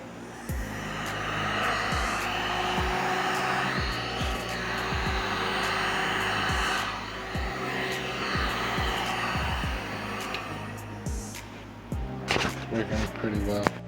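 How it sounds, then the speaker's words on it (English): Heat gun blowing hot air to shrink and melt a plastic trash bag: a steady, fairly loud whooshing hum that runs for most of the stretch, then turns choppier near the end. "I'm using a heat gun to shrink wrap and melt the ends to meet up."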